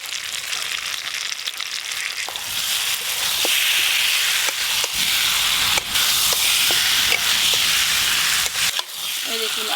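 Fried potatoes are cooked in spices with sugar for aloor dum, sizzling and hissing steadily in a hot pan. The frying is close and constant, with occasional scraping knocks from stirring and no talk.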